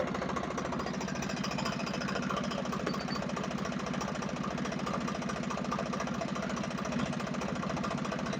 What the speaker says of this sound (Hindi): अभी स्टार्ट किया ट्रैक्टर, एक बार चेक कर लेंगे कितना ऑयल आता है।